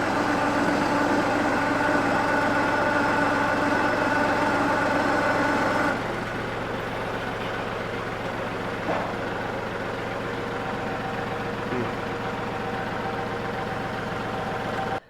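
A tractor engine with a pickup fault runs steadily, first revved higher and then settling to a lower, rough idle, loud and close, with no talking.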